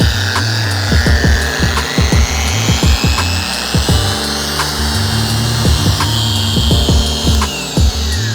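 Power polisher working over the paint of a Honda hatchback, a loud close motor whine with a steady hum and rhythmic knocking pulses as the pad moves across the panel, no talk.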